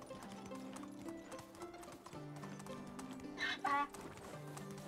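A donkey's hooves clip-clop at a quick trot across the map in the video game Medieval Dynasty, steady rhythmic steps close by over low game music, with a brief louder rustle near the end.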